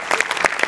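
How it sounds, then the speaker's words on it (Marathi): A studio audience at a Marathi comedy show claps for a sketch writer, a short, lively burst of close applause with a voice faintly underneath. "याच्यात तुझ्या लेखकासाठी जोरदार टाळ्या एकदा."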